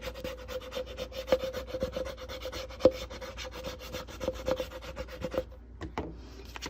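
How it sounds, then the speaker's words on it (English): Vinyl transfer being burnished onto a plastic Starbucks cup, a rapid close-up scratchy rubbing in quick repeated strokes, ending with a few separate scrapes and taps. "So then once that's down, we're going to make sure we burnish it."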